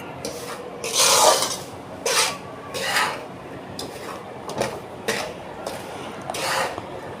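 Semolina is stirred in homemade ghee in a pan for rava besan ladu, with about seven rhythmic scraping strokes of a spoon against the pan, close and fairly loud.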